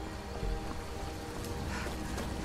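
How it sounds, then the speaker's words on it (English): Steady rain falls over a small town beside a dark water crossing in the video game Skyrim, a constant dense hiss with no voices. "And it's raining."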